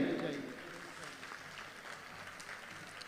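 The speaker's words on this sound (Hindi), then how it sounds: "तालियों की आवाज़ रुकनी नहीं चाहिए।" Applause at a Sufi mehfil honouring a politician, heard faintly and somewhat distant, loudest at the start and then settling into a steady, soft patter.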